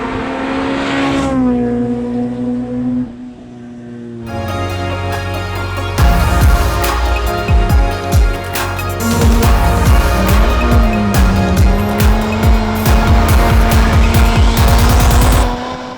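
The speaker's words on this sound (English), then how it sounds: "I tame my Civic's rowdy 3-inch exhaust with some choice upgrades. And it sounds a little bit like this." A Honda Civic Si with a 3-inch exhaust and long tube header revs loudly, then pulls away hard with a raspy, rising exhaust note and tire squeal, heard up close without talking.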